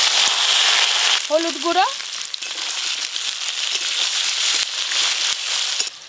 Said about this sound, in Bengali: তেল গরম হয়ে গেছে, মূলোগুলো ভালো করে ভেজে নেব।